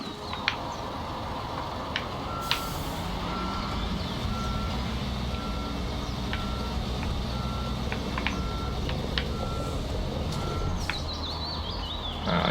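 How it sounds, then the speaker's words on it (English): In Construction Simulator, a truck reversing sounds regular evenly spaced backup beeps over a steady engine rumble, with a brief hiss and a few chirps, continuing without talk. "I'm going to move that truck a little bit closer."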